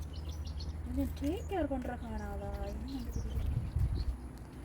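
A bird calls in a home garden, giving a quick series of bright, rising and falling chirps and whistles over a steady low background hum.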